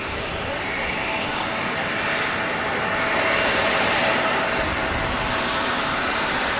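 An Embraer jet airliner with large winglets at Manchester Airport, heard as a broad, steady engine roar that swells slightly midway as it passes, with some talk mixed in.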